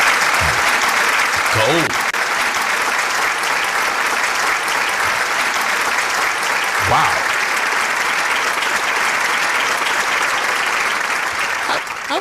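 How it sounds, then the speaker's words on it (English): A standing ovation from a live audience, dense sustained clapping lasting the whole stretch at steady loudness, with a couple of brief voices calling out over it. "I have to give y'all a standing ovation"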